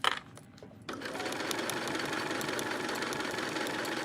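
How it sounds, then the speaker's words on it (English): A sewing machine stitches a colored flange binding onto a quilt, starting with a brief stop before a steady, continuous mechanical whir that runs close and evenly for several seconds with no talking. "And so now I just sew it, and it's gonna be invisible."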